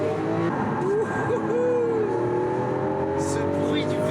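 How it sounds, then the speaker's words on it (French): A Lamborghini Aventador V12 revs hard on a racetrack, its engine note climbing and changing pitch between gears near 8700 rpm, loud and steady throughout, with someone talking over it. "Ce bruit du V12 est hallucinant."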